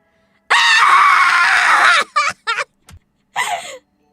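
A group screams together on a count: one long, loud, shrill scream lasting about a second and a half, then several short ragged yelps and cries trailing off.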